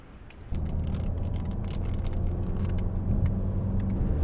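A car driving on the road toward Austria, a steady interior engine and tire rumble that jumps louder after half a second and then holds constant.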